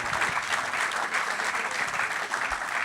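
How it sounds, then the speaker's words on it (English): Audience applause at a convention talk, a dense, steady clapping from a crowd that holds evenly throughout, with no talking over it. "An applause, I think."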